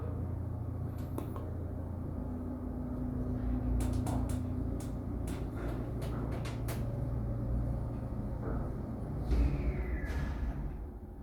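A 1989 ATLAS Omega II traction elevator motor running with a steady low hum and rumble, with occasional clicks and clunks from the car during the ride.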